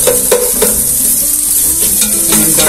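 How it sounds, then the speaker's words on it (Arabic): Onions frying in oil in a pan, a loud close sizzle with a few stirring scrapes, heard alone for a brief stretch. "فبنحط شوية زيت مشان نقلل الخضرة، بعدين بنضيف البصل"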